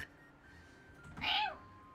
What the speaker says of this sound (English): Cat fight is back.